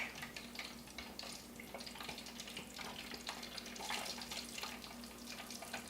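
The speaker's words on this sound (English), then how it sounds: "as you can hear in the background there, I've got one little piece of alligator already in there" A small alligator nugget deep fries in a pot of oil, giving a faint, steady background hiss and bubble, with no speech.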